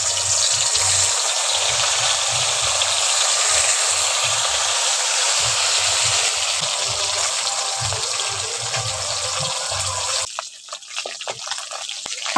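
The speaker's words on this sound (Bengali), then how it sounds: "ওই তেলের মধ্যে একটু একটু করে মাছগুলো দিয়ে দিচ্ছি।" Koi fish lowered a few at a time into hot oil, giving a steady loud sizzle and crackle close by that cuts off sharply near the end.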